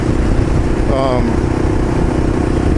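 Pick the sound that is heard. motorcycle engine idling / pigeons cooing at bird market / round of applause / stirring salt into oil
motorcycle engine idling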